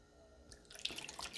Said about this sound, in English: we're going to pour the water into a separate container to make it a little bit easier to measure